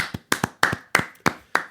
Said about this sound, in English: I think they deserve a clap out